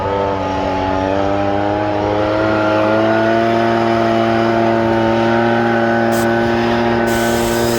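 A Husqvarna 125 handheld leaf blower runs outdoors with a steady, loud two-stroke engine drone and a strong airflow hiss that holds constant for about eight seconds, with no voices.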